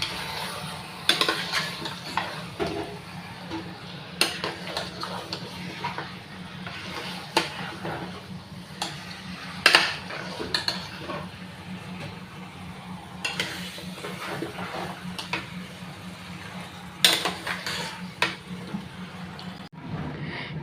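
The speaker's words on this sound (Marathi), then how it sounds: "मस्त मसाल्यात मिक्स करून घ्यायचं आहे मटण आपल्याला." Mutton is stirred into masala in a pot. A spoon scrapes and clinks against the metal at irregular intervals over a low, gentle sizzle, heard close up.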